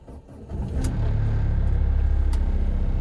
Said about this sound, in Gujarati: કેમ બાકી મિત્રો ડીઝલ ગાડીનો સાઉન્ડ